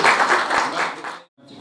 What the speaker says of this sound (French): Je voudrais qu'on l'applaudisse, s'il vous plaît.